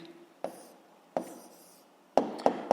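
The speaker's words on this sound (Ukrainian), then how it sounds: "записуємо відповідь, пишемо відповідь." An answer to a physics problem written by hand with a pen on paper: soft, close scratching strokes with a few crisp pen touches, the last three coming quickly together, quiet and without speech.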